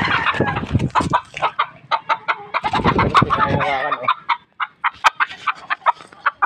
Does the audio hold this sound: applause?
no